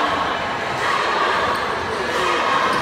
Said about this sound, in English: Hearing the boos in the crowd.